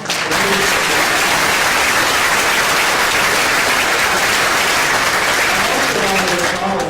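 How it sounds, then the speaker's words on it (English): Audience at a folklore society's annual meeting opening ceremony applauding, a loud, dense burst of clapping that holds steady throughout with faint voices mixed in. "So now please applaud"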